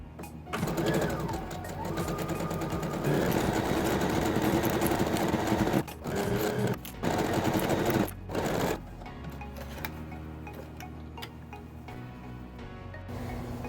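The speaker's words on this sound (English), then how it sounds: "Now we're gonna sew around the whole circle, 1/2 inch from the edge" A sewing machine stitching a seam half an inch from the edge all the way around a fabric circle for a mixing bowl cover: a steady close motor whir with brief stops and restarts partway through.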